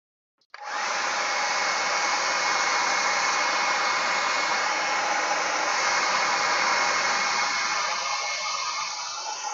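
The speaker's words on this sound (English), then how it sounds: "Hairdryer." A hair dryer switches on and blows with a steady, loud whooshing hum, running continuously up close.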